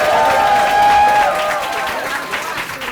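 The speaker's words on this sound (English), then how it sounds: "give a rousing round of applause for Congresswoman Barbara Lee." A rousing standing ovation at an awards event of the National Congress, dense steady clapping from a large crowd with scattered whoops and cheers on top, loud and sustained throughout.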